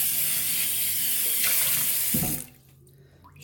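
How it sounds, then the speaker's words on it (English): Hot water runs from a tap onto a cast iron cornbread pan as it is scrubbed with a wiry scrubber and rinsed, a steady close splashing rush that cuts off abruptly near the end, leaving quiet. "I'll rub it around, scrub it, rinse it off with hot water"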